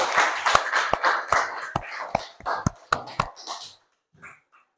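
Schoolchildren in a classroom clap at the end of a lesson, with scattered, uneven hand claps that thin out and stop, joined by soft murmuring.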